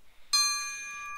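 A bell rings once in a video game, a bright struck chime with a sustained metallic ring that slowly fades, loud and close, alone without speech.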